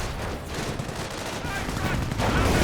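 Dense automatic gunfire from turreted machine guns rattles continuously in a Company of Heroes battle, a loud overlapping barrage of shots and explosions that swells slightly toward the end.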